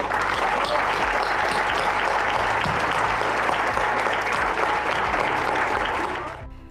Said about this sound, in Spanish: Una vez más, un aplauso a Paola, por favor.